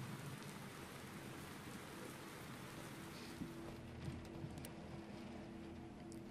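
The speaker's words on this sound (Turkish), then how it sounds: "Oo, yağmur yağıyor." Steady rain falls in the war survival game This War of Mine, an even, soft hiss of drops on surfaces with a few faint ticks and no voices.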